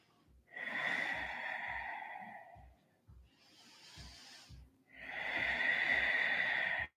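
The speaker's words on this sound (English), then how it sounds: "big breaths" Slow, deep breaths during a yoga practice, each long inhale and exhale drawn close to the ear in a quiet room, with pauses between breaths.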